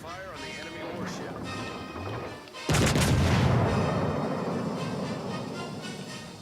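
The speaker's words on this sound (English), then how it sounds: "Concentrate fire on the enemy warship." Warship guns firing in World of Warships: Legends, one heavy booming salvo partway through that rolls out into a long rumbling decay after a stretch of quieter engine and sea ambience, with speech in the background.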